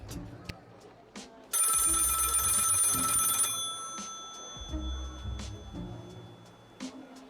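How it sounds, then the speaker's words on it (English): A telephone rings in the video game Lil Guardsman, one loud, bright, steady burst of electronic ringing lasting about two seconds, then cutting off into quieter game ambience with soft thuds. "Pick up the phone."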